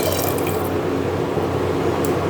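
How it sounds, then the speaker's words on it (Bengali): Water is poured into a cooking pan in a steady, close splashing stream that lasts the whole short moment, with no talk over it. "এরপর পরিমাণ মতো জল দিয়ে দেবো"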